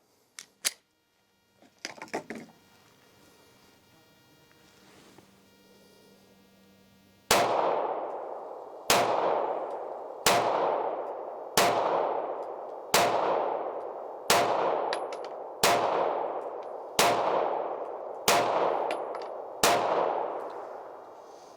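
A Taurus GX4 pistol firing 115 grain full metal jacket rounds: ten loud, sharp shots at a steady, evenly spaced pace, each ringing out and decaying, after a few quiet clicks and handling noises.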